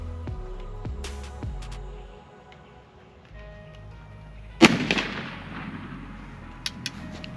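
A .43 Spanish rolling block rifle fires a black powder cartridge outdoors, one sharp loud report midway that rings off and decays over a few seconds, with scattered small knocks before and after.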